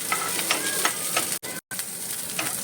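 Green chilies fry with onion in a pan, giving a steady close sizzle with soft periodic stirring scrapes and one brief gap of silence partway through.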